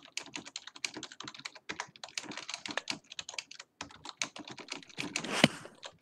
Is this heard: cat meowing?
no